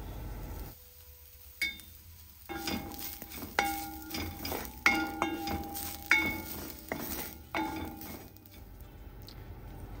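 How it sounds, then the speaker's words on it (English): A spoon scrapes and clinks against a pan while spinach with peanuts, coconut and crushed pepper cooks on low heat, giving a series of soft, evenly spaced stirring strokes over a faint background, fairly quiet and close. "Stir well and cook for a couple of minutes in low heat."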